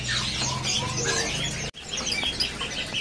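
Several caged birds, among them Bali orioles, chirp and call steadily at an Indonesian bird shop, a dense overlapping chorus of near tweets with one brief drop-out midway.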